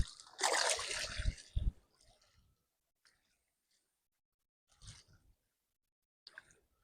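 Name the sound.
channel catfish released back into river water, splash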